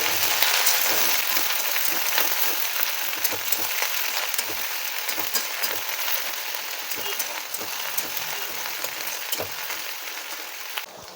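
Okra (bhendi) frying in a pan for doi bhendi, giving a steady, close crackling sizzle with dense bright spatter and small pops throughout, no voices.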